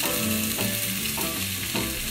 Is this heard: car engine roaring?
no